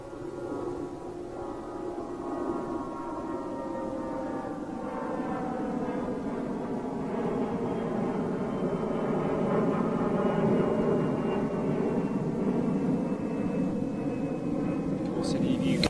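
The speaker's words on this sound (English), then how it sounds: "She came in this morning and she's going out now. Yes, 747-8 freighter." A departing Boeing 747-8 freighter jet roars steadily for the whole stretch, a loud, broad engine rumble with a slowly shifting whine heard from a distance.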